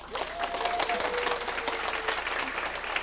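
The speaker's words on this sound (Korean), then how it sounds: "박수 한번." An audience at a political party's special lecture gathering in Seongbuk breaks into continuous, crowded applause, dense and even with many hands, while a faint voice rises briefly underneath.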